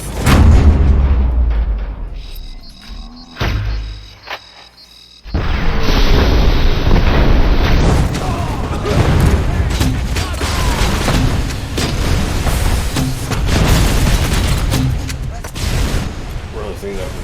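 Booming grenade launcher blasts and gunfire in the video game RoboJerk ring out loud and close, with a muffled stretch before the dense explosions and mechanical clatter resume.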